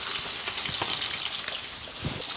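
Thick red grouper fillet frying in a pan, a close steady sizzle with small crackles and a few faint stirring or shifting noises.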